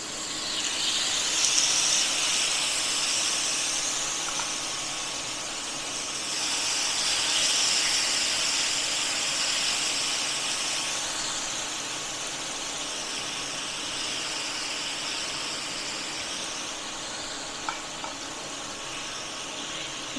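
Marinated chicken with lemon juice hits hot oil on a flat tawa and sizzles in a steady, even hiss that swells and eases slightly over about twenty seconds, nearby and with no voices.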